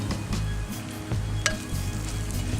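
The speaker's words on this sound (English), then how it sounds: "I want the spices to really mingle in the oil and to toast up and become nice and fragrant" Curry powder, cumin and coriander toast in hot oil in a pan, giving a steady, close sizzle with a few stirring scrapes and one brief metallic clink. No one speaks.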